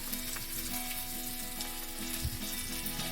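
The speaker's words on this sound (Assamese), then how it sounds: "এয়া তেলত আলুখিনি এতিয়া মৰহ দিছে তেজপাতৰ সৈতে" Potatoes fry with bay leaves in hot oil for a prawn dish, giving a steady, close, dense sizzle with no talking.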